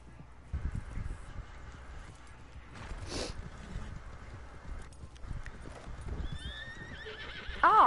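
Hooves clip-clop in a running rhythm as a horse gallops in the video game Red Dead Redemption 2, then it whinnies loudly near the end, with faint talk in the background.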